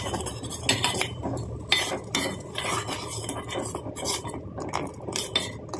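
A spoon stirs a thick mixture of jaggery and sugar in a pan, with steady scraping and repeated metallic clinks against the pan, close and continuous with no talk.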